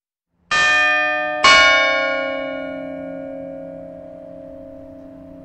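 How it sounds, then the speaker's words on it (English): A mechanical clock's striking mechanism rings its bells twice, about a second apart, each strike bright and loud with a long, slowly fading metallic ring. "Then there's an extra part which rings the bells"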